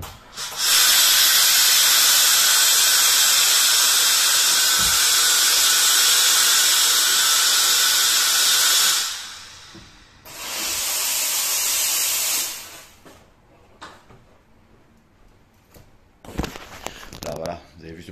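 A Simex Eradicator steam cleaner blasts a loud, sustained hiss of steam for roughly eight seconds, pauses, then sprays a second shorter burst, with faint clicks and handling noises afterward.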